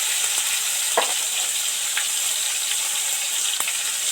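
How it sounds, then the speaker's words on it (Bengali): Tomatoes fry in hot oil for aloo posto, a loud, even sizzle up close with a few soft clacks of a spatula moving through the pan. "সবার আগে টমেটো তেলের মধ্যে দিয়ে দিলাম"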